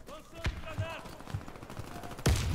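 Scattered gunshots crack out in the video game Warface, a few sharp single shots and a loud final burst, with faint voices murmuring underneath.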